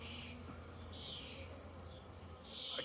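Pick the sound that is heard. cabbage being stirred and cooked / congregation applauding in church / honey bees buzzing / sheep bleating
honey bees buzzing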